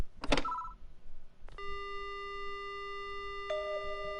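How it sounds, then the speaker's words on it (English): A telephone in the horror video game Death Mark gives a few quick electronic beeps, then a sustained synthetic tone that shifts pitch partway through, heard alone without talk. "The phone begins to ring."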